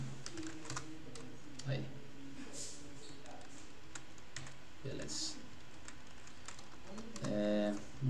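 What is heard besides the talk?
typing on a computer keyboard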